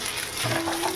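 Maggi noodles and egg fry dry in a pan for a school tiffin, a brief close sizzle with scraping as they are stirred, no talk over it.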